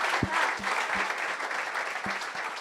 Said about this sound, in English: Another round of applause for Sandra, Brandon and Ben